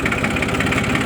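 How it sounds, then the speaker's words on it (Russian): A Hinomoto E2304 mini tractor engine idles steadily just after starting, a close, loud, even diesel chug with rhythmic knocking and no talk over it. "Все, трактор запустился."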